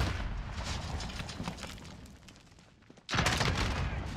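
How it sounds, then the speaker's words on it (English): Gunfire in the game Warzone sets off a Claymore, first a rumbling spread of shots, then a sudden loud close blast that continues as a heavy roar to the end. "Here's Claymore right here. I'm gonna shoot it."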